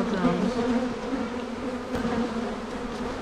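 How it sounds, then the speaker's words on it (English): Honey bees swarm around an open beehive in Alaska, creating a steady, close, droning buzz with a low hum that holds throughout and has no speech over it. "the bees are really buzzing around"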